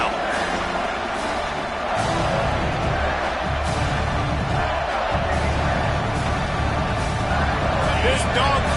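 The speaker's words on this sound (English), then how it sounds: "This dog crowd is off the leash, and they are coming after them, bringing noise on third down" A large football stadium crowd roars steadily on third down, loud and dense throughout, swelling slightly midway, with faint voices mixed into the noise.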